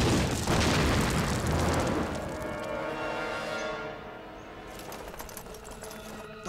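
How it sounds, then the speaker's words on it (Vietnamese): Artillery cannon fire in a war action film set during the anti-Japanese resistance: a loud, broad blast that rolls off into a long rumbling decay, with rapid crackling debris over the tail. "Đừng nổ súng. Dùng pháo."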